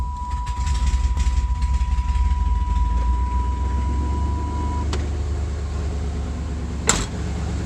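A 1992 Chevy S10 with a swapped-in 5.7 TBI V8 runs with a deep, steady rumbling idle close by, a door chime ringing along for a few seconds and then stopping, and a short clunk near the end.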